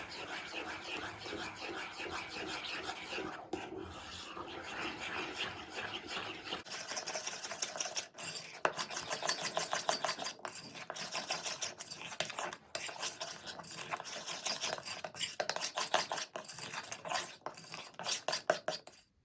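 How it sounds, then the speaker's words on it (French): Cake batter with vanilla sugar being mixed in a bowl, a gluten-free chocolate pear honey fondant: steady scraping and clinking of utensil against the bowl, rhythmic and close, growing busier partway through. "Et on mélange."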